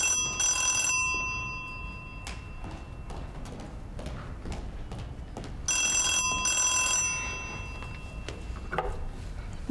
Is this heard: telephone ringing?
yes